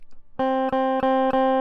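A plucked open string on a Thai phin rings out with a steady, sustained low tone, repeated four times in quick succession, each note clear and close with a bright attack.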